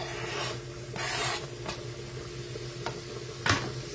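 Chopped shallot and sun-dried tomatoes sizzle in a pan, a steady moderate frying hiss broken by several brief scraping stirs and one sharper scrape near the end.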